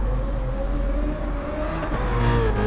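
BMW M3 GT with a 4-litre 32-valve V8 in GT Sport, engine revving and holding a steady high-pitched drone, rising slightly in pitch, loud and close with no talk.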